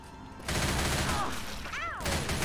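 Dense gunfire erupts in Left 4 Dead 2 as rapid shots pile up loudly after a brief quieter start. Short warbling tones and a voice cut through the shooting.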